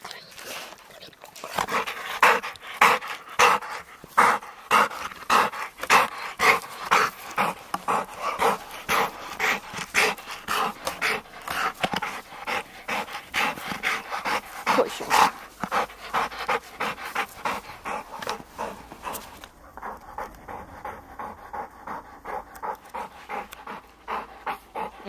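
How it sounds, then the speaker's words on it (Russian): A pit bull pants rapidly and steadily by a lakeside for most of the stretch, with soft whimpers mixed in, close and moderately loud, while people talk in the background. "Ой, какие собачки!"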